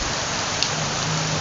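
Heavy rain pours down in a steady, dense hiss, drumming continuously on surfaces, including tarpaulin sheeting, throughout a flooded setting, with no voices.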